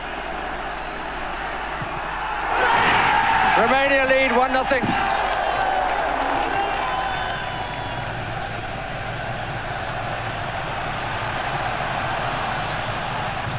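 A football stadium crowd at a 1991 match sends up a loud roar that swells for a few seconds and then settles back into a steady wash of noise beneath someone commentator's voice.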